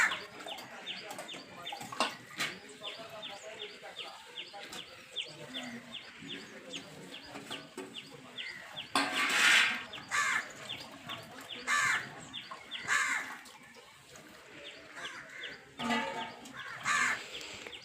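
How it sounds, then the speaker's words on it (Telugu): Crows cawing loudly around a village house with trees nearby, harsh repeated calls in irregular bursts, some close and loud, over a busy background of other birds and faint rooster-like clucks. "ఈ కాకులు తెగ అరిచేస్తా ఉన్నాయి."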